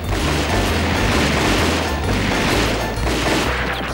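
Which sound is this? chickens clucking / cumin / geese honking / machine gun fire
machine gun fire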